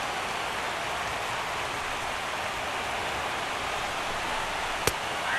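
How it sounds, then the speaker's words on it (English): Rain falls steadily at a night baseball game in MLB The Show 16, a continuous even hiss that persists throughout, with one brief sharp click near the end. "The rain, as we've mentioned, coming down fairly steadily here at game time."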